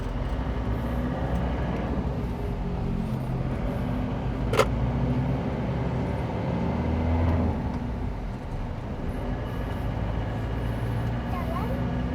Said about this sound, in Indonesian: Ada bus, ada truk, komplit di sini ya.